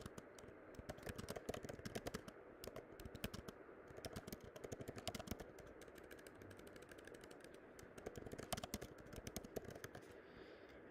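Rapid, steady typing on a computer keyboard with quiet, close key clicks in an uneven rhythm, and no talking.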